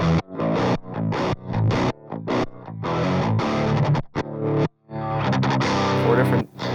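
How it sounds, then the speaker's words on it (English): Electric guitar played through the crunch channel of the ToneForge amp simulator plugin, a distorted, driven tone in choppy strummed chords and riffs with short gaps between phrases, loud and upfront. "Four different sounds for crunch."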